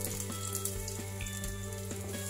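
Meat sizzles and browns steadily in a hot pan while cooking laing, a constant crackling fry with small pops, close and even, with no talking.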